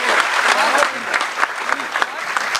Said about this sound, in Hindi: एक बार ताली मेरे लिए भी बजा दे आप